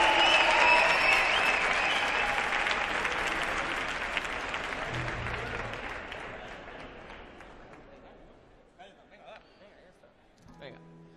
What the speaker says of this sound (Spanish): ahora redoblamos el aplauso porque se van a tocar otra más